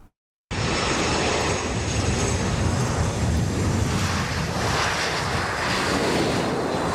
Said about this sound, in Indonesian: Pesawat kepresidenan mendarat di Pangkalan TNI Angkatan Udara Halim Perdana Kusuma pada Senin malam.